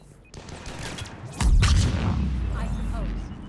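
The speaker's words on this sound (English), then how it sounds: "Wait, that's a big explosion." A large explosion booms in the video game Mass Effect 3, a heavy low blast that swells and rumbles on for seconds after a burst of gunfire, fairly loud.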